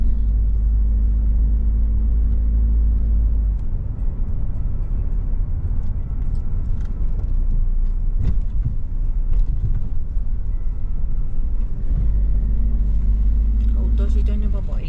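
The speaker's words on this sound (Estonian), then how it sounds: "Autosid on juba palju." Heavy road traffic rumbles continuously, heard from inside a moving vehicle with a deep low drone that eases in the middle and swells again near the end, while people talk over it.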